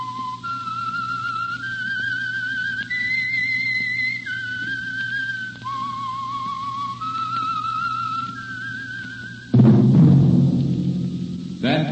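A lone whistler carries the eerie theme melody of The Whistler, the Signal Oil radio mystery program, in clear held notes stepping up and down, followed by a sudden loud orchestral swell at the end.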